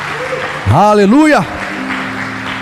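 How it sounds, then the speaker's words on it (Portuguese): A church congregation claps steadily in the background while a voice cries out a single drawn-out, sung exclamation over it. "Vamos aplaudir o Senhor bem forte, igreja."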